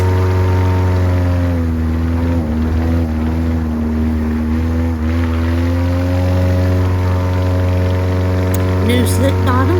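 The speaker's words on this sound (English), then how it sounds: "New slick bottom, old 4-cylinder Lycoming kicking it, pushing that 70-inch Q, no problems at all." Airboat with an old four-cylinder Lycoming engine driving a 70-inch propeller on a new slick hull, a loud, steady, droning engine and prop roar sustained throughout, close up.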